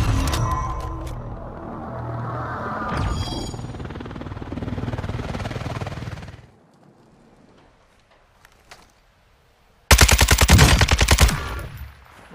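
Machine-gun fire from the Warzone video game comes as sustained loud automatic bursts up front, a quieter lull, then a dense, fast rattling burst near the end; no one speaks.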